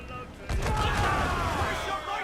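Broadside cannon fire from sailing-ship combat in Assassin's Creed Black Flag, a dense rumbling barrage of overlapping booms rolling on continuously after a sudden onset, with a faint voice underneath.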